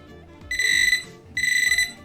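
Two loud, high-pitched electronic beeping bursts from a Quest XPointer metal detecting pointer alarm, each about half a second long, separated by a brief pause over quiet background.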